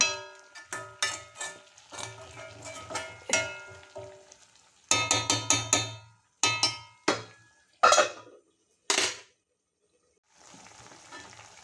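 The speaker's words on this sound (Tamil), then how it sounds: "இப்போ இதை நல்லா சிம்மில் வதக்கணுங்க" Chicken pieces sautéing on low flame in a pan for a chicken fry, heard as a run of sharp, rhythmic clanks and scrapes of a utensil against the pan with soft sizzling between strokes, then a quieter gap.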